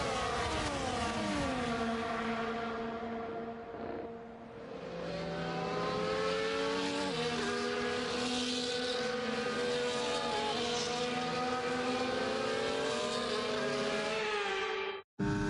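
Formula 1 cars on the formation lap at the Marina Bay circuit in Singapore in F1 24, several engines whining and rising in pitch together, with shifts and passing cars in a continuous loud drone.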